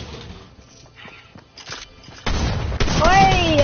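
Gunfire from a weapon in a video game, with a burst of loud shots and booms in the second half over busy game noise and a rising tone.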